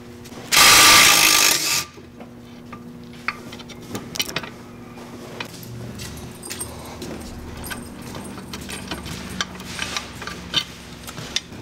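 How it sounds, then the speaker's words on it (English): A 16 mm box wrench clicks and ratchets on a ball joint nut of a BMW E39 rear wheel carrier, small metallic jangles scattered over a steady hum after a loud burst of noise at the start. "a 16 millimeter box wrench on the flat spot"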